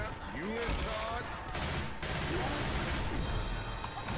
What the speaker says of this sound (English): I'm getting a machine gun